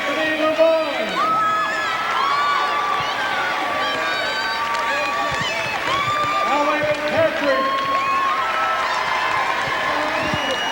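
A crowd cheers and applauds at the 1998 Maryland 4A state basketball championship after a five-overtime game, dense and loud throughout with whoops and shouts rising over the clapping.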